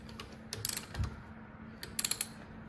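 A torque wrench tightening engine connecting rod bolts to 75 foot-pounds in a V8 build, with faint ratcheting clicks and two short clusters of sharp metallic clicks, heard alone in a quiet room.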